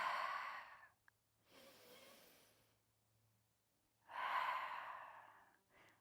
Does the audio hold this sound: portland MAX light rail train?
no